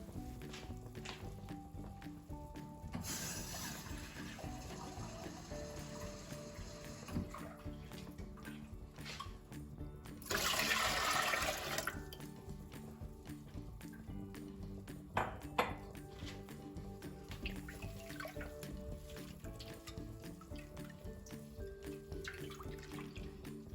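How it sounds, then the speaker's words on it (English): Water runs from a tap and is poured into a cooking pot of coconut cream on the stove, a steady splashing stream with a louder rushing burst midway and a few metallic clinks of the pot. "Followed by 8 cups of water and give it a stir."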